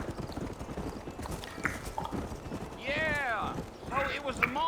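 Horse hooves clip-clop at a gallop in the Red Dead Redemption video game, a steady rhythmic beat under spoken dialogue, with a horse's whinny rising near the end.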